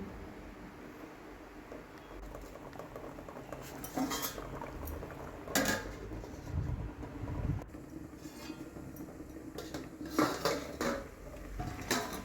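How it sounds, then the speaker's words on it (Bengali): A metal tiffin box set into a pot of water for steaming, with quiet scattered clinks and knocks of metal against metal, faint and intermittent, and no talk. "সেই জলের মধ্যে আমি টিফিন কৌটোটা দিয়ে দিচ্ছি"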